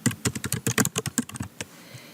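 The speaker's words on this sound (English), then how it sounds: "I'll just type in my name" Rapid keystrokes on a computer keyboard as a name is entered, about a dozen crisp close clicks in a quick uneven run that stops, leaving a quiet tail.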